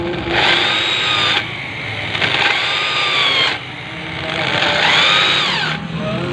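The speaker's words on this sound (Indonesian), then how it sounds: "Jadi saya bor ini" A power drill bores into a custom 18-inch motorcycle alloy racing wheel rim, whining loudly and closely in three sustained bursts whose pitch rises and dips as the bit bites into the metal.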